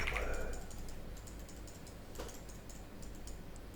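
Fast typing on a mechanical computer keyboard, a steady patter of close clicky keystrokes under soft background game ambience.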